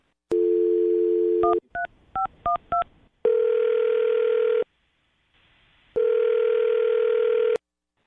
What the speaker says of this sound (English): I'm going to dial her phone number right now, see if we can get her on the phone